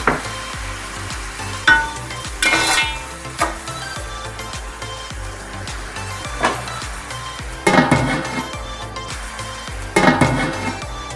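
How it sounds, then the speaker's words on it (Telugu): Onions frying in plenty of hot oil with salt, a loud close sizzle under repeated spatula scrapes and clinks against the pan. "ఆయిల్ వేడయ్యాక ఇందులో ఆనియన్స్ వేసుకోవాలి. కాస్త సాల్ట్ వేసుకొని ఆనియన్స్ మగ్గించుకోవాలి."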